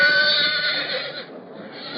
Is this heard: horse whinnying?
yes